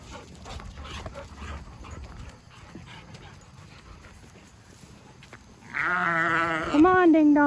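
Sheep bleat near the end of the clip, loud and close, after a stretch of quiet farmyard background with soft talk; a couple of drawn-out calls.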